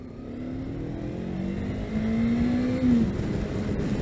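A Jawa RVM 500 motorcycle engine on a test day revs up steadily from the rider's seat, its tone rising and holding with a brief surge near the three-second mark, loud and continuous with no talking.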